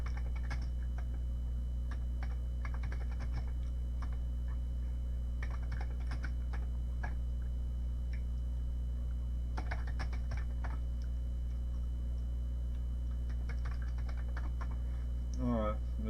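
Rapid keystrokes on a Commodore 64 keyboard that has taco crumbs on it, with clicks arriving in irregular bursts and pauses over a steady low background hum.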